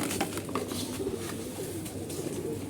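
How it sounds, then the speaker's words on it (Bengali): Pigeons coo softly and repeatedly at a rooftop feeding spot as they come down to eat, with light fluttering and background hiss, no talk over them. "কবুতর নামতেছে"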